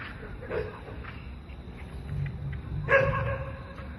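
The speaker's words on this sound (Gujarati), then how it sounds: "કૂતરાને પાણો મારો ને" A dog barks a few times in short, faint yips at about half a second and three seconds, somewhat distant, amid low background noise and voices.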